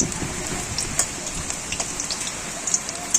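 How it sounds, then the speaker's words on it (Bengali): Steady heavy rain pours down, a dense hiss with scattered louder drops and splashes, no voices. "কিন্তু এত বৃষ্টি"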